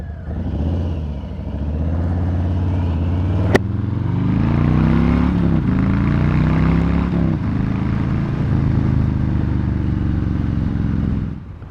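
A Harley-Davidson motorcycle being ridden in cold weather, its loud engine rumbling close and steady, with rising and falling revs as it accelerates and shifts through gears.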